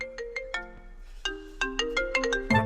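A mobile phone ringtone plays a bright, melodic electronic tune of quick repeated notes, clear and fairly close, with no voices.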